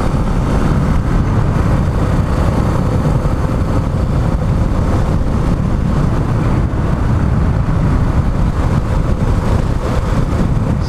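A Suzuki DR650SE motorcycle rides along country roads, its engine and wind noise forming a loud, steady, unbroken roar that stays close throughout with no talking.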